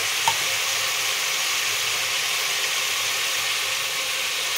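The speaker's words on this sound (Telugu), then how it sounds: "ముందుగా ఉల్లిపాయలు పచ్చిమిర్చి ఫ్రై చేసుకొని తర్వాత మునక్కాయ ముక్కలు వేసి కొంచెం ఉప్పు కారం పసుపు వేసి" Onions, green chilies and drumstick pieces frying with salt, chili powder and turmeric, a steady close hiss of sizzling oil that holds evenly throughout with no voices.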